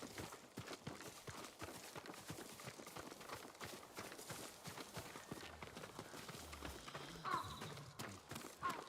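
Horse hooves clip-clop steadily at a trot or gallop in the video game Ghost of Tsushima, close and continuous, with game music and ambient sound underneath.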